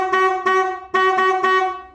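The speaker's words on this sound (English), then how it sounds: "I honked the horn to see if I can get any idea about that." The horn of a 2007 Harley-Davidson Road King Custom that won't start sounds in four loud, close, steady honks in two quick pairs.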